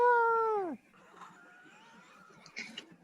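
A cat lets out one loud, drawn-out meow that falls away at the end. Faint room noise follows, with a brief clatter near the end.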